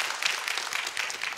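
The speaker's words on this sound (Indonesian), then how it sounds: "Berikan tepuk tangan buat mereka" A church congregation applauds during a sermon, a dense, even patter of many hands clapping at close-to-mid distance for over a second with no pause.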